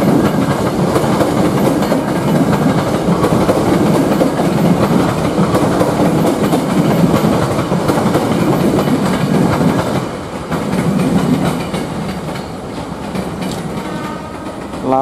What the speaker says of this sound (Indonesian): Tokyo keluar dari stasiun Jakarta Kota.